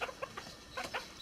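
A white German dwarf Faverolles hen gives a handful of short, soft clucks in quick, uneven succession, faint and close with nothing else around them.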